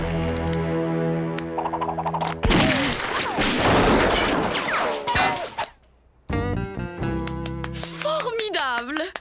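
A Lucky Luke cartoon gunfight: rapid bursts of gunshots and ricochet-like crashes amid music and comic sound effects, with character voices talking over parts, a brief silence near the middle.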